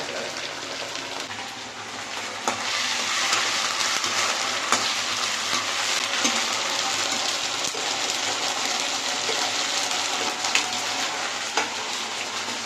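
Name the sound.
frying in a pan, ginger paste added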